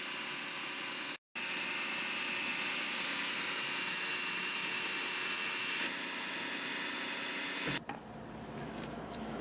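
A food processor runs steadily while chopping possum food made of a mixed mash with yogurt and kale, giving a loud continuous motor whir that cuts out briefly, resumes, then stops near the end.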